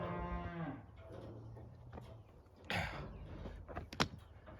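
A calf on a hay farm, its head stuck in metal panels, gives several loud close moos, a long low bellow first and then shorter calls, with clanks and rustling between.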